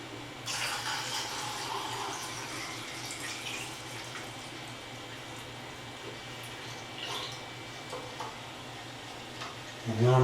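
Film developer splashes into a developing tank at close range, a faint, steady liquid pour with small gurgles, ending in a brief louder knock.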